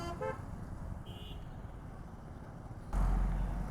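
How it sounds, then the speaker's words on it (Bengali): Cars, including Mercedes-Benz vehicles, pass on a rainy road in Bangladesh as heard from a moving motorbike; steady traffic and wind roar with short horn toots early on and a louder vehicle surging close near the end. "এই রোডে অস্থির অস্থির কিছু গাড়ি আসছে।"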